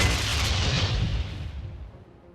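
A grenade explodes against a reinforced wall in the game Memories of Mars, giving one loud, close blast that fills the moment and then rolls off into a fading rumble.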